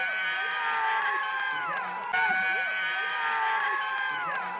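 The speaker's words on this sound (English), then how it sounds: "The crowd erupts with applause" A crowd cheers and applauds at a girls' athletics podium ceremony, with loud, sustained whoops and clapping throughout and a brief swell midway. Shouting voices fill the scene.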